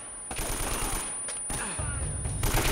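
AK rifle fire in the video game Uncharted: Drake's Fortune, rapid automatic bursts in short rattling strings with brief gaps, loud and close, with a voice occasionally over the gunfire.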